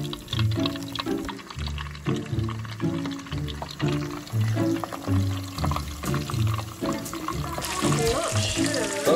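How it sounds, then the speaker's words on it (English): Cornmeal-battered shrimp, made like corn dogs, dropped into hot frying oil, bursting into a loud, bubbling sizzle near the end over steady music. "We're just gonna dip it in there and let it drip a little bit and drop it in the oil."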